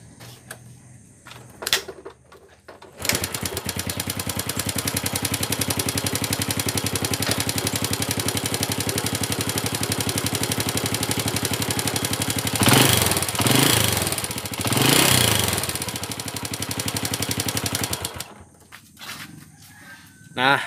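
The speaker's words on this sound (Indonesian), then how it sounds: "Yuk kita dengarkan suara motor ini." A motorcycle engine idles with a steady, rattling knock for a long stretch, then cuts off. Brief talk comes before and after.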